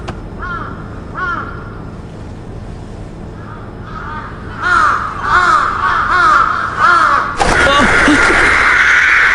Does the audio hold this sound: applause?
no